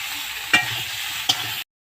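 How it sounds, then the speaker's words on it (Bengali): Vegetables with turmeric, salt and ground ginger sautéing in a pan, a steady close sizzle with two sharp stirring clacks of a spoon against the pan before it cuts off. "এবার আমি আবার ভালো করে কষিয়ে নেব।"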